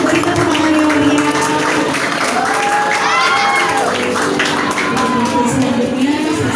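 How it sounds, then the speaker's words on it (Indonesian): Applause from a congregation at a church Christmas celebration: steady, dense clapping that fills the whole stretch, mixed with crowd noise and some voices or music underneath. "boleh beri tepuk tangan yang meriah"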